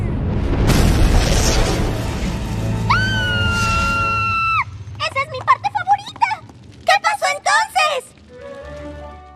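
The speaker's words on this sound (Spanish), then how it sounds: "el volcán hizo erupción" A loud, deep rumbling boom of an erupting volcano in a My Little Pony cartoon, followed by a sustained high cartoon scream, then excited character voices speaking in short bursts.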